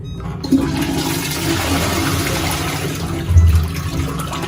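A hotel bathroom toilet flushes close by, a sudden rushing swirl of water that keeps draining and gurgling steadily, with a louder surge near the end.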